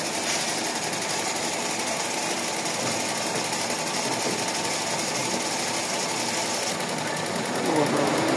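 A Toyota 4A-FE engine idles with the air conditioning running, giving a steady, fast, buzzing mechanical rattle that holds constant, with voices talking over it.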